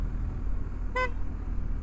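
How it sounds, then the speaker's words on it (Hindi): A single short, bright auto-rickshaw-style horn toot rings out about halfway through on a BMW R1250GS motorcycle, over a steady low engine rumble and road noise. "क्या ऑटो रिक्शा वाला हॉर्न लगा दिया"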